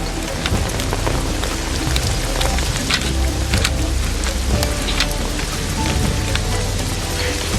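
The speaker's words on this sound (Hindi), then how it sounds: "इतनी बारिश में नहीं जा पाएंगे" Dense, loud downpour hissing and pattering on surfaces without letup, with scattered heavier drops and a faint low rumble beneath.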